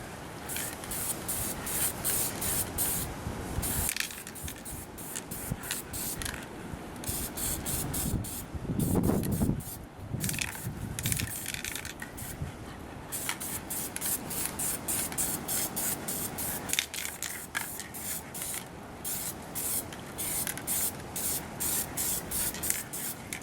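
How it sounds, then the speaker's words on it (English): Aerosol clear coat sprayed onto Xbox 360 controller parts, a series of close hissing bursts, some short and some held for several seconds, separated by brief pauses and repeating for over twenty seconds. "So here we go with the clear coat."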